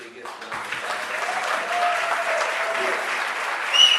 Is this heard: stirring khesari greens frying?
no